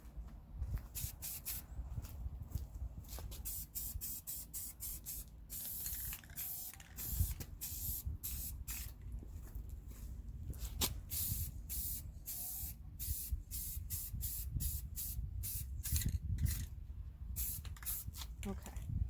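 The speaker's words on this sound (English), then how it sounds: "spraying part all over the glitter" Rust-Oleum flat black spray paint hisses in short, repeated bursts over a glitter tumbler, close and steady, with faint handling noises between sprays.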